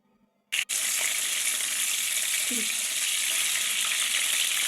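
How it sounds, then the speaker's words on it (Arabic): Fish fries in a pan with a little oil: after a short pause, a loud, steady hiss and crackle of sizzling starts and keeps going close up with no speech. "ما كثرتش الزيت غير شويه، غطيت برك يعني شويه تاع هذيك تاع القاعده تاع المقله، وخليته يتقلى حتى يتحمر من جهه هذيك الاولى"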